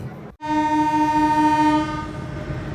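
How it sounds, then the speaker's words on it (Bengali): The intercity Jahanabad Express, bound for Khulna, sounds a loud, sustained horn blast as it departs Narail railway station at night, followed by the rumble of the moving train. "এইমাত্র নড়াইল থেকে ছেড়ে যাচ্ছে খুলনা অভিমুখী আন্তনগর জাহানাবাদ এক্সপ্রেস"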